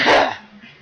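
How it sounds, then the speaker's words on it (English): One harsh, close cough bursts out loudly and fades within a second, from a man suffering a nasty lingering cough. "Sorry, I've got like a nasty cough lately."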